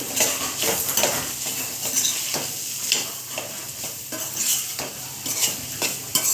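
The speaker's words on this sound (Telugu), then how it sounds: "బాగా కలిసేలా తిప్పుకోవాలండి" Carrot fry with chili powder stirred in a pan, continuous frying sizzle with repeated scraping spoon strokes in an uneven rhythm, close and steady with no talking.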